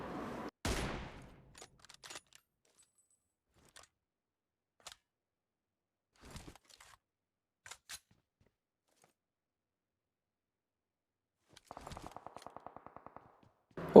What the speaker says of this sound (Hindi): ओ भाई अब यहाँ से भी फायरिंग शुरू होने लग गई थी।